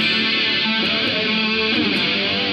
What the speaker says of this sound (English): we have the chorus that I can use with the distortion or without it.